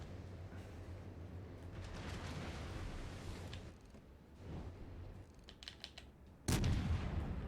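Warship guns fire in World of Warships Legends: muffled distant booms and rumbling, then one loud, close blast near the end, with faint keyboard clicks scattered through.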